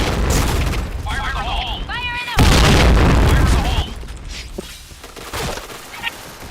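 A flashbang grenade going off in a video game: a sudden loud burst of noise that masks everything for about a second and a half, surrounded by people talking and game sounds.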